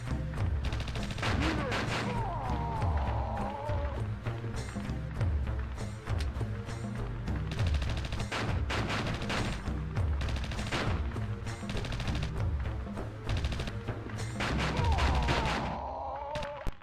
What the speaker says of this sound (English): there's a guy shooting at me